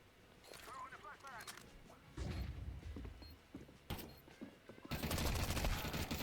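Counter-Strike 2 gunfire rings out in sharp bursts of rapid shots, with quieter gaps between volleys and a heavy burst near the end, while players talk over it.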